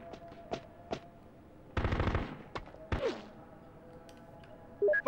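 Bursts of heavy gunfire in the PS2 video game Full Spectrum Warrior: several sharp single shots, then a dense automatic volley of about a second, followed by more scattered shots and thumps at moderate loudness.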